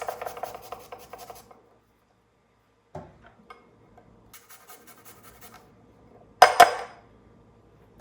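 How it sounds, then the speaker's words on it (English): Three small garlic cloves are rubbed over a small grater above a bowl in a kitchen, giving short, quiet rasping strokes with pauses between, then a sharper clink of metal near the end. "We're gonna get our garlic grated up here."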